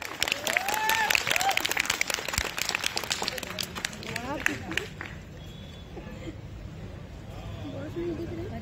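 A crowd at a staff party at a resort in Dhanbad claps loudly with voices mixed in, the clapping thinning out after about five seconds, leaving a quieter murmur of people talking.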